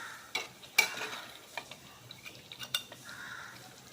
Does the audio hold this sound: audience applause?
no